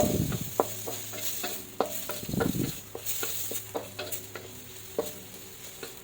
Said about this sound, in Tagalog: continue lang ng paghahalo kasi mabilis tong maluto at mabilis ting uminit yung ating kawali